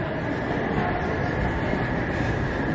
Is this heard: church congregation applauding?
no